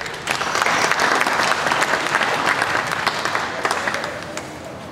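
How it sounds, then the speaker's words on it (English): Audience at a summer Jersey heifer cattle show in Ontario breaks into loud, sustained applause, a dense steady clapping from a crowd that holds for several seconds before easing off slightly. "Let's give them a round of applause."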